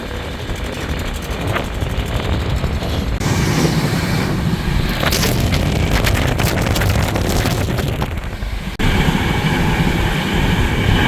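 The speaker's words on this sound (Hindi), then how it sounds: "अभी जो आपने क्रॉसिंग देखी वो थी train number 20981 Udaipur Agra cantt Vande Bharat express" The Udaipur Agra Cantt Vande Bharat Express rushes past on the adjacent track in a loud, sustained roar of wheels and air, heard up close from a moving Intercity express train, with a sudden shift as it clears.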